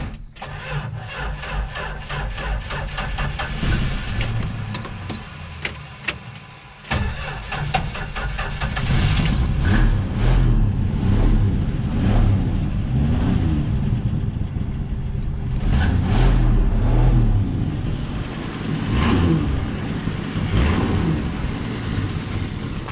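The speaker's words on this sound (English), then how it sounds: "let's see if we can start this up" A cold 1967 Plymouth Barracuda V8 with a badly adjusted electric choke cranks and catches, then settles into a loud, lumpy idle with occasional blips of revving, heard up close with no talking.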